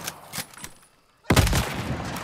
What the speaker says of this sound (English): I was trying to show the damage my guns can do